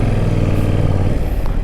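A 2024 Yamaha Tracer 7 motorcycle engine revs loud and close, a steady throaty drone that drops in pitch partway through as the revs ease.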